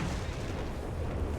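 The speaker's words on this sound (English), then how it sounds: "Retaliatory shot from the double AT gun package." Anti-tank gun fire in a WWII strategy video game, a dense continuous rumble of booming shots and blasts filling the moment without distinct separate reports.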